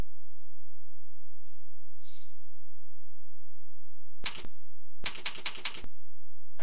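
Username being typed on a keyboard during a LoadRunner software tutorial, a short burst of quick key clicks after a single tap, close and crisp against a quiet electrical hum.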